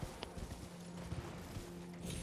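Horse hooves clip-clop at a steady walking rhythm in a video game, the repeated thuds moderately loud over a busy game soundscape with faint talk around.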